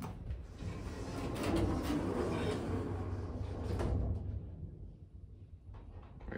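An old modernised Otis traction lift door operator at 247 Adelaide Street, Brisbane, runs with a continuous close mechanical whirring and rumble, building and then easing off as the doors move, with no talk over it.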